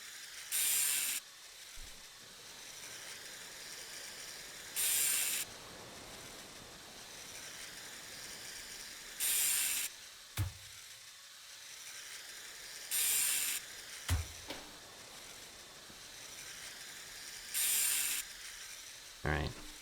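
A scrap grinder in the Ship Graveyard Simulator video game runs in repeated bursts, each a bright, hissing grind lasting about a second and coming every few seconds over a low, steady background, with occasional clunks between them.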